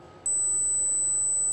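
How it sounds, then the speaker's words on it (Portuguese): A steady electronic tone from a multimeter on continuity test across a starter motor brush holder, a sustained high beep that starts sharply and holds over faint background hiss. "Ó, o bip,"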